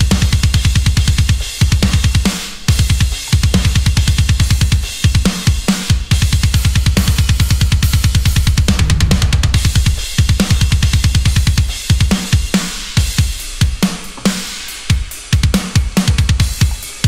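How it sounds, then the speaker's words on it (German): An isolated metal drum track from a Panda Sound drum kit, with fast dense kick runs, cymbal wash and sharp snare hits played loud and steady, no voices. "Ich zeige euch jetzt auch nochmal die isolierte Drumspur, damit ihr auch da nochmal ein Gefühl für habt,"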